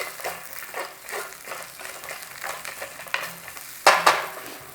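Turmeric and salt being stirred into poha in a frying pan for a South Indian breakfast: soft repeated scraping strokes over gentle sizzling, ending with a couple of sharper metallic clinks.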